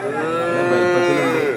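A buffalo bellows once at a busy livestock market in Kerala, where bull calves are being sold; the single long, loud, close moo holds steady for over a second.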